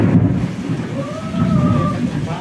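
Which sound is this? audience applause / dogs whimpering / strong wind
strong wind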